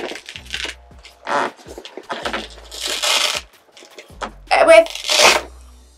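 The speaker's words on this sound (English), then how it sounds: "this velcro is very sticky, that was very stuck on" A velcro knee block is ripped off a new Wintec HART saddle in several short, close, rasping tears separated by brief pauses.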